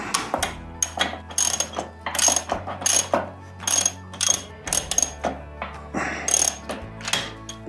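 A hand ratchet tightens a part on a 1985 Ironhead Harley, clicking in quick repeated bursts of metallic ratcheting with brief pauses between strokes, close and clear with no talk.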